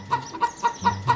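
A hen clucks five times in an even rhythm, short close clucks spaced about a quarter second apart with nothing else around them.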